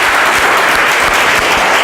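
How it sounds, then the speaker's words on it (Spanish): A church congregation bursts into loud, dense applause for the Lord, a steady wash of many hands clapping at once, close and uninterrupted. "¿Le podemos dar un aplauso al Señor?"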